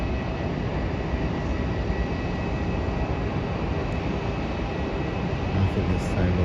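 Steady, loud roar of a Singapore Airlines jet readying to taxi at Melbourne Airport, a broad constant engine rumble filling the whole stretch without clear breaks.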